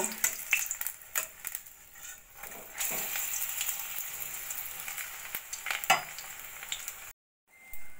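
Flatbread sizzles and crackles softly in a shallow pan, with occasional scraping from a spatula, then a brief silence near the end.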